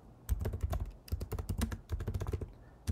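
Keys clatter on a computer keyboard as a command is typed, a close series of quick irregular clicks in short bursts with brief pauses and no talking.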